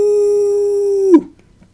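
A long, steady werewolf howl from the 1973 film The Boy Who Cried Werewolf holds one pitch and then drops off sharply into quiet, clear and alone.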